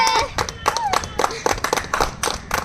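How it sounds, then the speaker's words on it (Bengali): Rhythmic hand clapping cheers the players of a funny flour-eating challenge game, quick bursts repeating steadily while a voice talks loudly over them. "জোরদার তালিয়া সুমির জন্য আর বোনের জন্য জোরদার তালিয়া"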